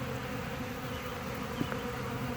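Honey bees buzz around a piece of old, cleaned-up wild comb set out while forage is scarce, a steady close hum that fills the whole stretch with no voices.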